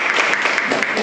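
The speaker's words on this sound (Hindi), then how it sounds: "ताली बजाते" Brief burst of clapping from a gathered crowd at a Telugu community birthday function in a Bhiwandi high school, dense and steady for about a second with some voices mixed in.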